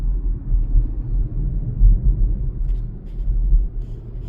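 Steady low engine and road rumble inside a car on an evening drive at about 26 mph past a lake, continuous and moderately loud with no talking.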